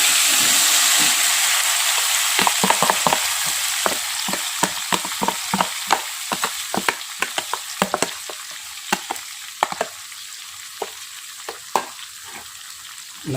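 Blended chili spice paste for Palembang-style sambal fries with a steady sizzle and bright hiss, broken by repeated sharp scraping clicks of a utensil stirring in the pan, close and fairly loud.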